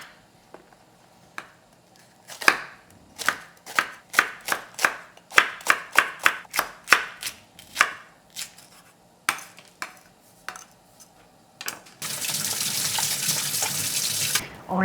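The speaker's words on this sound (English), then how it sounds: "Green onions, to chop it up." A knife chops green onions rapidly on a cutting board in quick bursts of sharp thuds, followed by a steady rush of running water.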